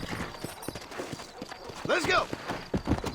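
Horse hooves clopping in the Red Dead Redemption video game, a quick uneven rhythm of mid-level thuds under spoken dialogue and a shout.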